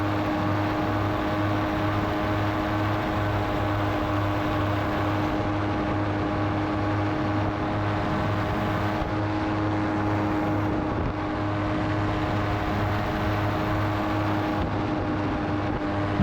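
An Apco paramotor engine drones steadily at low throttle in flight around 200 feet up, a constant buzzing hum with no talk over it.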